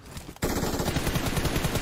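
Rapid automatic gunfire from a multiplayer shooter video game, a sustained loud burst of closely spaced shots that starts abruptly after a brief quiet moment and continues without pause.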